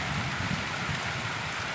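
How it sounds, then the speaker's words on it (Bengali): Heavy rain pouring down in a storm under cloudy skies, a steady, full hiss of falling water with no breaks, close and fairly loud, without speech. "দেখো কি জোরে বৃষ্টি এসছে, আকাশ মেঘলা ভাব করে এসে তো দেখো একদম ঝমঝম ঝমঝম করে বৃষ্টি আর ঝড়"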